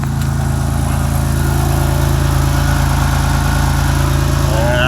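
A rusty Toyota Tundra parts truck idles with a major exhaust leak, its engine putting out a loud, steady, rough drone with a pulsing exhaust rumble throughout.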